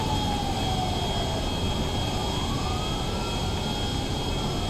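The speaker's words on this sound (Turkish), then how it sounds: "İnşallah arkadaşlar uçağı uçururum." A fixed-wing airplane in GTA 5 gives off a continuous jet-engine roar with a steady whine, loud and unbroken throughout, with no voices.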